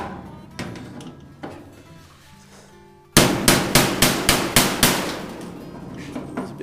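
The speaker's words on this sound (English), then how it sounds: "Hammer out the back." Quiet faint tapping at first, then a loud run of about eight sharp metallic hammer blows in quick, even rhythm setting cold rivets against a dolly, followed by a few softer taps.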